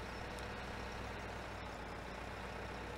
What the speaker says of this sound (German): Ich muss den Motor hören